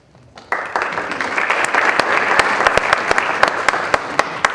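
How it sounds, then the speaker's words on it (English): Audience at a climate and environment candidate forum for a California State Senate seat bursts into sustained applause after a moment of quiet, steady and fairly loud with sharp individual claps standing out, no talking over it. "You guys have a lot of stamina clapping after every question."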